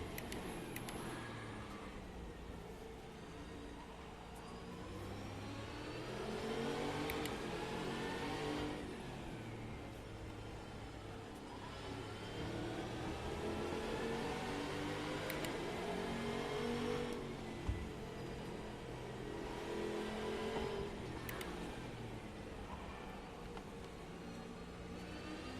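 A GT race car in Assetto Corsa circles Brands Hatch, its engine revving and droning steadily throughout, with repeated rises and falls as it accelerates, shifts and brakes into corners, loud and continuous.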